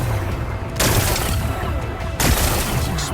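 Two heavy blasts ring out in Horizon Forbidden West as rocks are blown apart, each a sudden broad boom that lingers briefly over loud game ambience, with voices talking.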